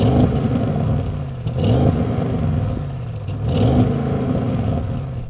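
Audi RS7 with a sports exhaust revving hard and repeatedly bouncing off its soft limiter, a loud, close engine note rising and cutting back in uneven pulses with no talking.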